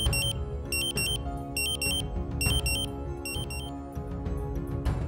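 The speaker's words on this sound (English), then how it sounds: "After a few seconds, the Dräger PAC will activate the alarm." A Dräger PAC gas detector sounds its alarm during a bump test: loud, rapid electronic beeping in repeating bursts, shrill high-pitched tones pulsing in quick clusters over a steady low background hum.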